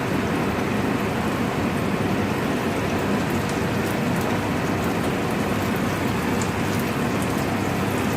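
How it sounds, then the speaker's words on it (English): Capsicum sautéing in a pan, cooked for a keto burger, gives a steady, dense hiss and crackle of frying that runs evenly throughout with no talking. "I'm gonna saute the capsicum"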